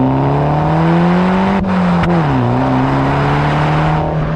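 A BMW 1 Series with a modified exhaust idles loudly with a deep exhaust burble, dipping briefly and then settling back into a steady rumble, close by.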